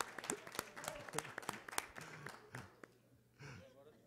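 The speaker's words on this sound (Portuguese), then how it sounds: "Vamos aplaudir aqui." Audience applause at a plenary session, a burst of scattered hand claps that thins out over a few seconds, with voices and murmurs mixed in and a brief breathy sound near the end.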